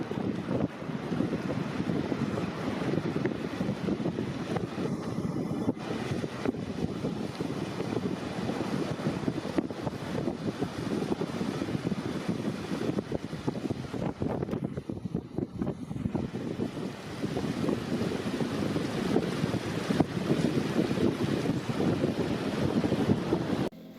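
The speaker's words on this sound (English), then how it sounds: "the water begins to stir. Soliton water waves move around" Water stirring and shifting with soliton-style waves, a steady broadband wash of surf and wind noise that runs unbroken and fairly loud throughout, with no voices.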